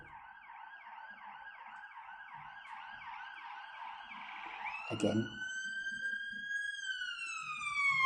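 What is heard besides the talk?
police and ambulance sirens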